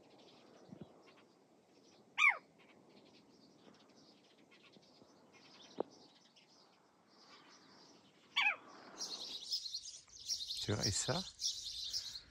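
Sparrows give a few sharp, scattered chirps at a wall full of small holes, isolated calls early on, then a busier cluster of tweets near the end, with a person speaking briefly.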